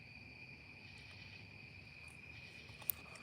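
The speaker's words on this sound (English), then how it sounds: "crickets." Crickets chirp steadily in a quiet nighttime setting, a faint continuous high trill with a brief tiny tick near the end and no voices.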